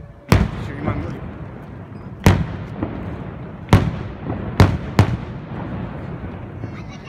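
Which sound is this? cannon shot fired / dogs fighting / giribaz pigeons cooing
cannon shot fired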